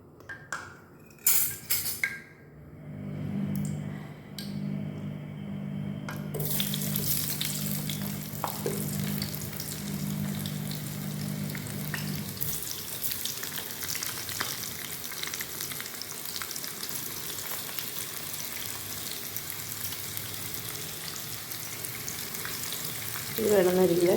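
Potato chips drop into hot oil in a pan and sizzle in a steady, bright hiss for about twenty seconds, after clattering and clinking of utensils at the start.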